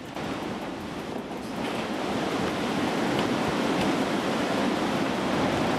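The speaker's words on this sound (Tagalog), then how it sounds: "Alas 4 ng hapon, isinagad na ng bagyo ang galit nito." Typhoon Odette at peak strength battering the town of Liloan, a steady roaring wall of wind and rushing water that builds slightly louder midway and holds, with no voices.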